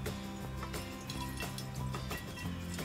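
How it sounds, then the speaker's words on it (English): Water is poured into a container for a homemade spider repellent, a steady gushing splash running continuously for a few seconds. "pour your water in here."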